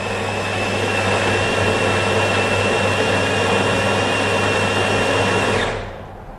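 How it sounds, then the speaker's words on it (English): A Jura coffee machine grinds coffee beans for espresso with a steady, loud, whirring burr grind that holds for several seconds and then cuts off abruptly. "Machine grinding the beans"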